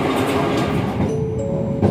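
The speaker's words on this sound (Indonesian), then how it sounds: "kereta api Mutiara Selatan telah tiba dan berhenti di stasiun Bandung" Mutiara Selatan passenger train arriving and stopping at Bandung station, a steady low rumble of rolling carriages with a faint brake squeal near the end.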